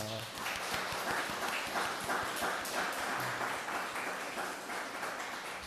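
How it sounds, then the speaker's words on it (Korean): A congregation at a Sunday church service in Darmstadt applauds in welcome, a steady, thick round of many hands clapping that fills the room for several seconds. "우리 옆에 있는 분들 박수로 환영하겠습니다"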